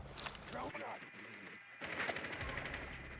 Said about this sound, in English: Looks like some shots are being fired somewhere.